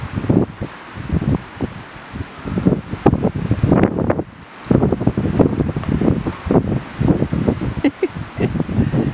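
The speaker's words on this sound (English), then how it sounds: "where it's quite windy." Gusty wind by a lake at an Adirondack campsite buffets the microphone in uneven loud bursts, with brief lulls and rustling throughout.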